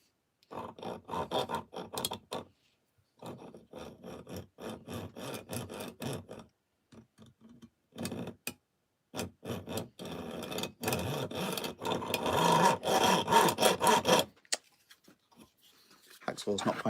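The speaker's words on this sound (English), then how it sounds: "cut it with a hacksaw" Hacksaw cutting a roughly 17 mm length of part for a 3D printed cantilever kit on a TRX-4, heard as bursts of rasping strokes with pauses, growing denser and steadier toward the end, close and moderately loud.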